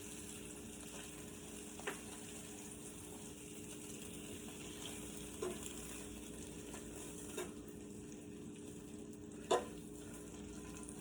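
Chopped onion frying in a skillet while sausage and vegetables cook, giving a low, steady sizzle throughout with a few faint clinks and taps of a utensil against the pan.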